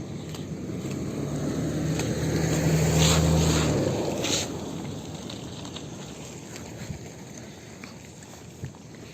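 A motorboat engine hums steadily on coastal water, swelling to its loudest around three seconds before fading abruptly, leaving wind buffeting the microphone and faint background rumble.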